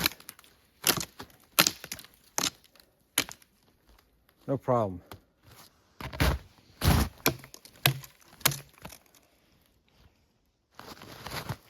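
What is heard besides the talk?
Varusteleka Skrama 200 knife chopping branches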